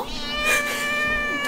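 A cat lets out a single drawn-out, wavering meow, loud and close, ending with a slight rise.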